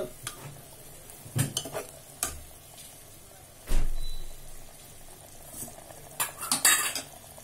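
Avarakkai (broad bean) pulao masala bubbles at a boil in a pot, punctuated by several sharp metal spoon clanks and scrapes as it is stirred.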